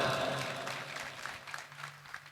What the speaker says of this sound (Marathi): त्या दोघांसाठी जोरात टाळ्या वाजवा